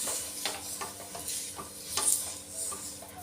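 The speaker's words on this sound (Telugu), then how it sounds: "కొంచెం అంత నూనె వేసుకొని ఈ ప్యాన్ మొత్తం ఇలా తుడుచుకోవాలి" Hot dosa pan wiped with a drop of oil, giving a soft sizzle with scraping, rubbing strokes close up and no talk.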